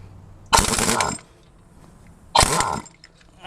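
A pneumatic impact gun works on a stubborn bolt on a 2009 Honda Pilot during a timing belt job, firing two short, loud hammering bursts about two seconds apart in a quiet garage.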